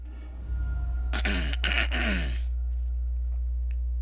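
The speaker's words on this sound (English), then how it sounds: "Clear my throat." A person clears their throat once, close to the mic: a short, rough, voiced rasp over a steady low electrical hum.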